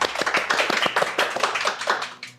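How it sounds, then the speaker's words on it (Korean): A small audience at a company workshop session applauds, a short burst of brisk, close handclaps that thins out and fades after about two seconds. "박수 부탁드립니다"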